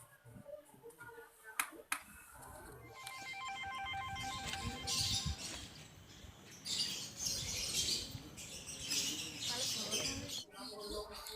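A telephone rings during a call, its repeated electronic trills sounding up close against a noisy room, with a few sharp taps before it and voices talking afterwards.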